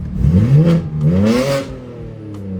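A BMW G80 M3 with the S58 engine revs hard as it accelerates close by, a loud raspy rising howl that climbs in pitch twice, then settles back toward a lower drone.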